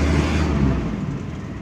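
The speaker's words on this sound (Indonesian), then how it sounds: "Udah oke rasanya, kita tancap gas." A Toyota Kijang diesel car drones along with a steady low engine rumble, close and fairly even, easing slightly toward the end, with no talk.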